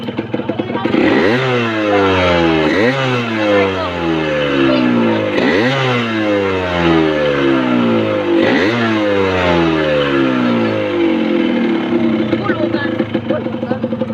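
A motorcycle engine revs repeatedly, climbing and dropping in several loud surges close by, with voices talking over it.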